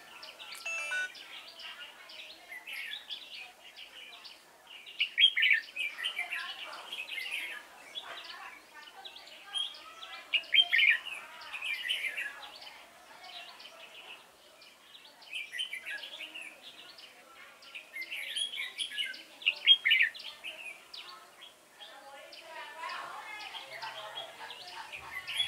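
Red-whiskered bulbul singing from a trap, a string of quick chirps and warbles repeating at moderate distance, quieter and a little muffled, with no voices over it.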